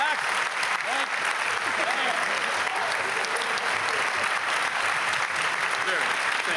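A high school spring orchestra concert audience claps in sustained, even applause, a dense wash of hand claps that fills the room from start to finish with no pause; voices may be faintly present.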